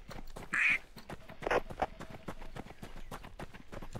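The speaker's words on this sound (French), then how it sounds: "Suis poursuivi par un canard tueur." A duck in the survival shooter Deadside gives a loud, close quack burst early on, followed by scattered game sounds and footstep-like clatter.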